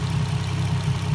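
A replacement engine in a Nissan G35 idles on its first start after sitting about a year, a steady low mid-pitched drone heard up close with no voices.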